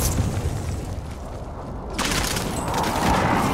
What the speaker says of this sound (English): Precision airstrike, get down!